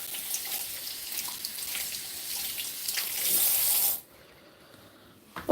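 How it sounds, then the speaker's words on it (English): Tap water running over a sponge being rinsed at a kitchen sink: steady splashing flow for about four seconds, rising slightly, then cutting off to near silence with a small clunk at the end. "Just rinse out my sponge."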